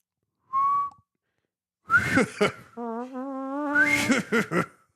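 A person whistles a short note, pauses, then breaks into laughter while attempting to keep whistling, producing a wavering whistled tone mixed with bursts of laughing breath, close and loud.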